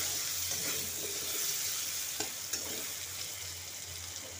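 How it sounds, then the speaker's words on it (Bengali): Potatoes seasoned with salt and turmeric fry in oil, giving a continuous bright sizzle with occasional stirring scrapes, close and steady throughout. "একটু নাড়াচাড়া করে লাল লাল করে ভেজে নেব।"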